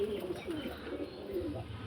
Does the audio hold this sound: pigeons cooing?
yes